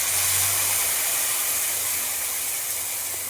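Spice paste sizzles over fried potatoes in a pan while tangra fish jhal with mustard and poppy seed is being made, giving a loud, steady, close hiss throughout with no talking.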